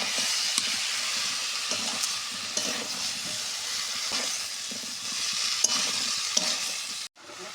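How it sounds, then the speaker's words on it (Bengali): Mixed vegetables with peas, cumin and chilli powder fry in a pan for a charchari, producing a steady close sizzle punctuated by repeated stirring scrapes, ending in a sudden cut. "এবার দিয়ে দেবো সব সবজিগুলো।"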